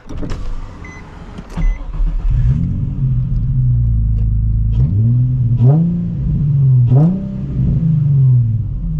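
A Nissan 350z engine hums steadily from inside the cabin while driving, with a deep continuous drone that rises and falls in pitch through several gear changes and acceleration pulls.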